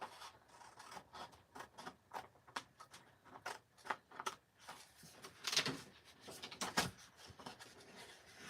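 Scissors cut out card paper in a series of soft, close snips and rustles, quiet and irregular, with a few sharper crisp cuts toward the end and no voices.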